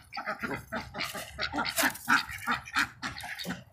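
Several ducks feed eagerly on mealworms nearby, giving a dense run of quick, overlapping quacks and chattering calls with a busy, irregular rhythm.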